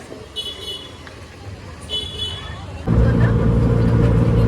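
Street traffic at Goregaon market, a continuous roadside rumble with a vehicle horn tooting twice early on, then a louder, heavier engine drone swelling in close for the final stretch.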